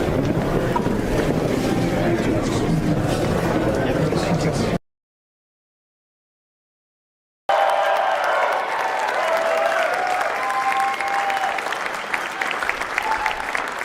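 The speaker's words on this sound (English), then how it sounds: "Standing ovation." A large crowd at an inaugural parade event inside Capitol One Arena gives a standing ovation, a loud, dense wash of applause that cuts out briefly and then resumes.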